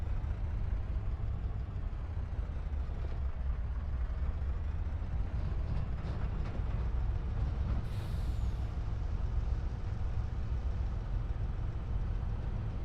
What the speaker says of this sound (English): And this truck needs to be fueled up too.